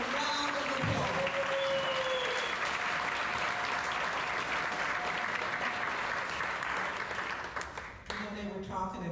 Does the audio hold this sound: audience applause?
yes